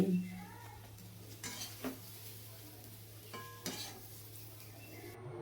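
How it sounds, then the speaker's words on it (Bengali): Young jackfruit fries in oil in a wok: a faint sizzle runs under a steady hum, broken by a few soft scrapes and clinks of a spatula. "তো এইভাবে তেলের মধ্যে এঁচোড়টা ভেজে নিয়ে এঁচড়টাকে তুলে নিচ্ছি"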